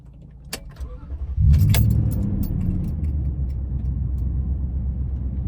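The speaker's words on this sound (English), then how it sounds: "So we're going to do a startup inside the cab." A Toyota Tundra with a TRD dual exhaust starts up as heard from inside the cab: keys jingle, the starter catches and the engine fires into a low, steady idle rumble, muffled and fairly quiet.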